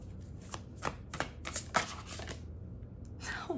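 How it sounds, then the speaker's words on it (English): A deck of tarot cards being shuffled by hand, a quiet series of quick riffling and slapping bursts close by, with no talking over them. "You guys just saw me shuffle all these cards, right?"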